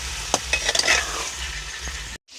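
Jackfruit curry gets stirred in a hot pan, a sizzling fry with quick clinks and scrapes of a spoon clustered near the start, then a steadier hiss before a brief cut to silence.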